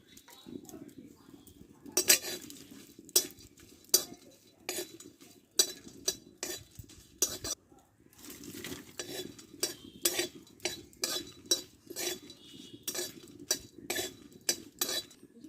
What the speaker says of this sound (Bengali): চারটি এলাচ দারচিনি লবঙ্গ আর শুকনো লঙ্কা নিয়ে নিয়েছি এটা ভেজে নেবো শুকনো খোলায়